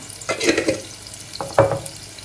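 Sugar stir-fried in a pot with shallots for a large batch of pad thai sauce; two short bursts of scraping, sizzling stirring with quiet gaps between.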